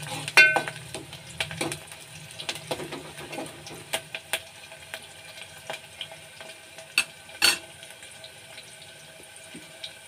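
Onions frying and browning in a pan, a steady soft sizzle with occasional sharper crackles and stirring scrapes, close up, with no talking.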